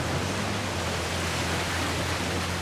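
A jungle waterfall in Uncharted: The Lost Legacy roars as a steady, dense wash of falling water, loud and unchanging throughout, with no voices.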